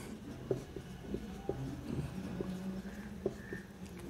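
Chalk or marker writing on a board during a chemistry lecture, faint scattered taps and short scratchy strokes in an irregular rhythm over a quiet room hum.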